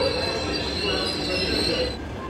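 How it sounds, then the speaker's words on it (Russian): A passenger train pulls into a Samara station, wheels squealing loudly and steadily against the rails with a dense low rumble, the screech easing slightly near the end. "Самара встречает состав с почетными пассажирами."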